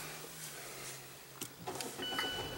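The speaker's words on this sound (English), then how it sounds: "Jacob is going to help us start the engine" A Mazda 3 engine cranks and catches after a quiet cabin hum, with a short burst of starter noise then a steady idle and faint electronic chimes.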